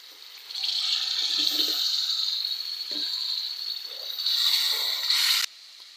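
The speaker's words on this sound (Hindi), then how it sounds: "इसमें थोड़ा पानी डालते हैं।" Water pours into a hot, spiced gravy, setting off a loud, sustained hissing gush for about five seconds that surges near the end and then cuts off abruptly.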